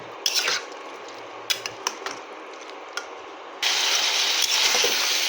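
A few sharp clinks and taps sound against a pan of bean and fish-head curry, then water poured in sets off a sudden loud, continuous hissing rush that fills the rest of the moment.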